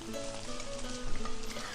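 Gyoza frying in a pan give a steady, close sizzle with a dense crackling hiss and small pops throughout, no voices.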